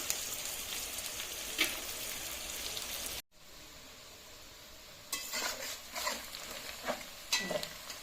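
Parshe fish frying in a pan of hot oil, a steady close sizzling hiss with occasional spatula scrapes and clinks, broken by a brief cut to near silence before the frying resumes.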